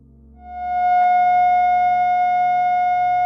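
A single steady electronic F sharp tone fades in and holds, pure and sustained over a faint low hum.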